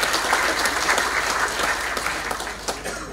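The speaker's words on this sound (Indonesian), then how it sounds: "Tepuk tangan buat mereka berdua." At a graduation ceremony an audience applauds two graduating siblings, a dense, steady clapping wash, loud and continuous for the whole stretch with a low hum beneath.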